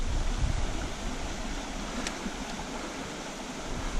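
Steady broadband rush of a trout stream's current flowing continuously with no talk, a constant watery hiss filling the clip at even loudness.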